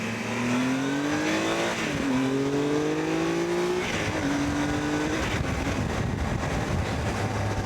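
Motorcycle engine revving hard under acceleration on a ride through Groningen, rising in pitch through several gear changes, loud and close with strong wind noise.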